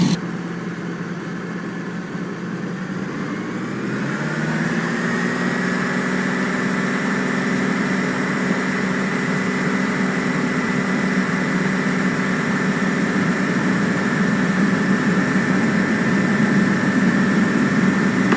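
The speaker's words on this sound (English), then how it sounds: "Just line up with the runway and push the throttle forward all the way." The engines of a DC-3 aircraft in a flight video game, idling low, then throttled up for takeoff to a steady droning roar that holds loud and even.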